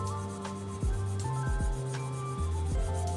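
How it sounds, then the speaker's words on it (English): Repeated back-and-forth rubbing of sandpaper on wood, several rhythmic strokes over a steady background hum. "sanding works much better in line with the grain"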